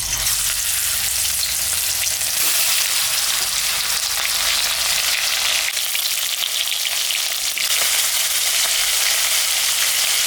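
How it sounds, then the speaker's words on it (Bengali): Fish seasoned with salt and turmeric fries in hot mustard oil in a wok, a loud, steady crackling sizzle that continues without pause, with faint spattering pops throughout. "মাছটা এখন আমি ভাজবো"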